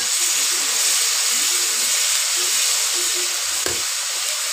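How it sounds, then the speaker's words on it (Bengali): Sliced onion, garlic and green chili sizzle and fry in a pan, a loud, steady crackling hiss running continuously, with faint stirring scrapes and one brief knock near the end. "পেঁয়াজ রসুনগুলো একটু ভেজে নিলাম"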